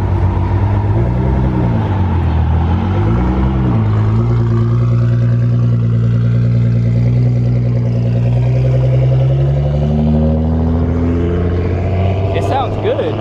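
A Nissan GT-R engine revs loudly and continuously close by, its pitch rising and falling through repeated throttle blips and sustained holds over about thirteen seconds.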